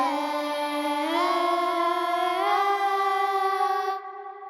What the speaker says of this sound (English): And we wanted to get a kids choir thing going on